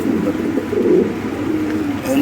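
Lahori Sherazi pigeons cooing in a breeding loft, a steady close, low throaty warble running throughout, with a voice speaking at moments.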